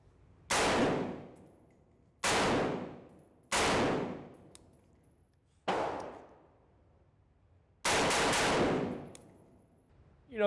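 Five loud, sharp reports from a historic repeating gun, fired one at a time with roughly two-second gaps, each crack decaying into a ringing echo, with no talk over them.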